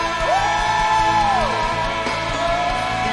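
A church congregation at a Sunday service lets out long, loud shouts and whoops, a sustained rising yell followed by a second cry, over a dense crowd din.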